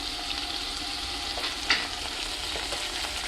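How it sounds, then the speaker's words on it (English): Cauliflower cooking in butter in a pan gets stirred, with a continuous soft sizzle and a few light scrapes and one brief clink of the utensil against the pan, no voices. "I'm going to go ahead and give it a stir"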